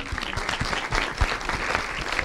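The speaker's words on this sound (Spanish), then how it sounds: "También le ofrecemos un aplauso" Studio audience on a television talk show claps in a brief burst of applause, a dense patter of hands at moderate loudness with a few sharper claps standing out, and no voices over it.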